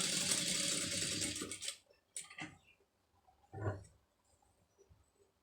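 A sewing machine stitches cloth piping in a fast, close, rattling burst lasting under two seconds. Short clacks of the machine follow with quiet gaps and no talking.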